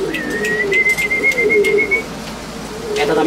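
Pigeons in a loft of racing breeding birds coo in a soft rolling murmur, joined by a sustained thin whistle for about two seconds and a few light clicks.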